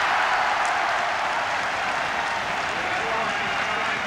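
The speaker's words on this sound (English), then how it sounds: "the Finnish supporters have something to cheer with 9 minutes remaining" Finnish football supporters roaring in a stadium after a goal against England, a steady dense wash of crowd cheering that holds at full volume throughout.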